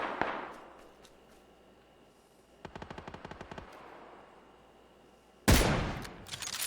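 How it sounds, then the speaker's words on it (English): Gunfire in PUBG: a distant shot near the start, then a rapid burst of about ten automatic rounds, followed by a loud, close blast that trails off into a rumbling tail. "I know they're shooting"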